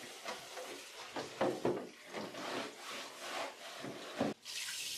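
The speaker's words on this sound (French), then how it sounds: "Utilisez une brosse douce aussi afin de nettoyer tout résidu à l'intérieur" A soft brush scrubs the inside of a trash bin with a run of short, close rasping strokes in an uneven rhythm, each pass briefly louder and then easing off.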